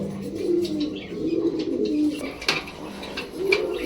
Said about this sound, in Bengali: এটা হচ্ছিল হোয়াইট বোম্বাই সাদা বোম্বাই কবুতর